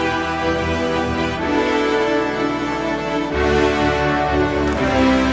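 A full brass ensemble sample produced in FL Studio plays dense, loud sustained chords that shift a couple of times, holding a rich steady wall of sound throughout with no talking.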